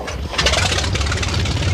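An old propeller aircraft engine cranks and catches, a loud close rough rumble building into a steady running drone.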